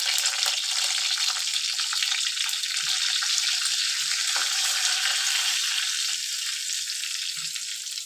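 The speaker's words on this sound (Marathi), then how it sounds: "हे बघा जिरं टाकलं डाळी एकदम थोडी घालायची नंतर कढीपत्ता टाकला थोडीशी हळद" Hot oil sizzles loudly and steadily as cumin, a little dal, curry leaves and turmeric fry in a tempering, a dense close hiss with faint spoon taps underneath.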